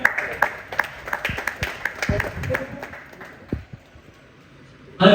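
Audience applause and clapping at a cricket auction event, a steady patter of many hands under loud talk from an announcer, with crowd noise filling the room throughout.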